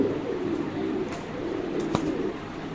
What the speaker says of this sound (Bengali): অস্থির কোয়ালিটি কবুতর মাশাআল্লাহ দেখেন